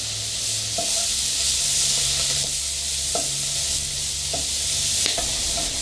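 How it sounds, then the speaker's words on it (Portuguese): Chopped onion sautés in a hot pan with a bright, continuous sizzle, and a few sharp knocks from a stirring utensil against the pan punctuate it. "Vou colocar aqui a cebola também, já para ir refogando."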